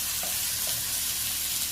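Potatoes frying in a pan with salt and turmeric, a continuous soft sizzle with a faint stir or two, steady and close, with no one talking.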